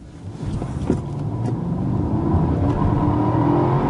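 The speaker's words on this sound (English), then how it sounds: "So we are now going to do the acceleration test." Mercedes S500 sedan (2014–2015 model) accelerating hard from a standstill during an acceleration test, with a loud, steadily building engine roar and a brief spike of tire noise near the start, continuing unbroken without talk.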